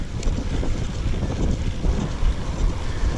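Steady, loud wind buffeting a microphone outdoors while cycling in full-finger cycling gloves, a continuous low rumbling roar with gusty swells and no speech.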